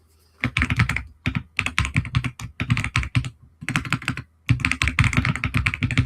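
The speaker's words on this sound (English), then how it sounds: "I know, I have a nice loud keyboard" Loud typing on a computer keyboard, rapid clacking keystrokes in several bursts separated by short pauses, close and clear with no talking.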